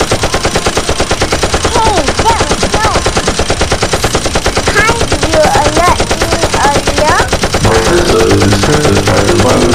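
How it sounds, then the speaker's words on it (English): Rapid machine-gun fire from an animated action scene, a continuous loud stream of bursts lasting the whole stretch, with dialogue heard over it. "It will last for 2 minutes before I can reload. Good job, Sanyu. We can handle the gun well"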